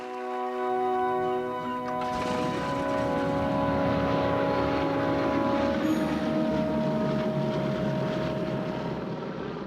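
Memphis Belle bomber plane engines hold a steady, loud propeller drone with a strong tonal hum that swells slightly and then stays even throughout, with no voices.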